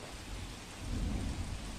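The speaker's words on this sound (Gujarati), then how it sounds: "વલસાડમાં સતત વરસાદ" Steady rain falls in Valsad during high winds, giving a dense continuous hiss with a deep low rumble that swells slightly midway, close and even, with no voices.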